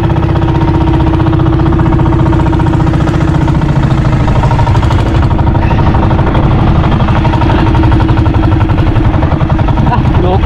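A boat engine idling steadily nearby, a loud continuous chugging throb that stays even for the whole stretch, with voices faintly mixed in.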